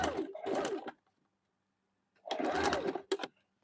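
A sewing machine stitches a blouse in two short runs of rapid mechanical whirring, separated by about a second of silence, then a couple of quick stitch bursts.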